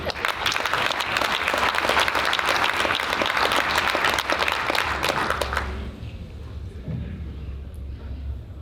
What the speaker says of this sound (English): Give a round of applause for Bret Kinsella.